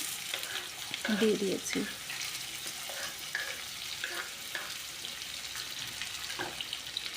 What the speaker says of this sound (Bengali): এবার পেঁয়াজগুলোকে ভালো করে ভেজে নেব